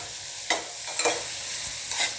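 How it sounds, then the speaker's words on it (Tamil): Pineapple pieces sizzle in hot ghee for pineapple kesari while a spoon stirs them, with a few scraping strokes over a steady frying hiss, close up. "பைனாப்பிளை லைட்டாக நெய்யில் வதக்கிடலாம்."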